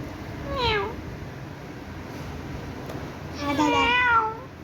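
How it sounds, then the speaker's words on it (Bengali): A white cat with white whiskers meows twice, a short cry followed after a pause by a longer, louder wavering one, heard close and clear over quiet room noise. "সাদা দাড়িওয়ালা বিড়াল।"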